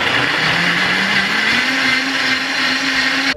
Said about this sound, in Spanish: vamos a licuar esto con mucho cuidado porque está caliente